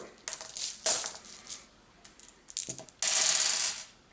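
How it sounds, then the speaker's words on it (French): Several quick clattering rattles of dice tumbling onto a hard surface, with a louder, longer burst of rolling and clicking near the end. No voices. "On lance les dés"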